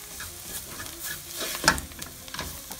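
Spice masala for chicken chukka fries and is stirred in a pan. A soft crackling sizzle carries irregular spatula scrapes and one bright metallic clink partway through, all close up and without speech.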